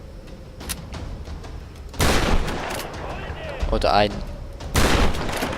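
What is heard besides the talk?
gunfire in the video game Tomb Raider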